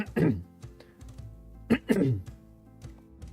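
Two sharp, rough coughs burst out close by, separated by a short pause, with faint clicks and quiet between them.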